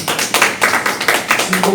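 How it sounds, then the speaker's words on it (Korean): At a social-entrepreneur training session, a small group gives a short round of applause, with loud, close claps in a quick, fairly regular rhythm of distinct bursts. "요 세 분에게 박수 한 번만 부탁드립니다"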